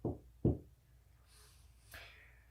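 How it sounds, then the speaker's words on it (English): Two firm knocks strike a door in quick succession, close and clear, followed by quiet room tone and a faint breathy sound. "there was a knock at the door"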